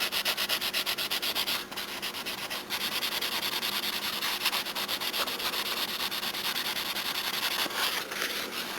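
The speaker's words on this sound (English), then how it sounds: "I will sand it again, smooth it out" Steady close-up sanding of repaired leather, worked in the direction of the flaps: a continuous rough rubbing hiss with a few brief pauses, quiet and alone.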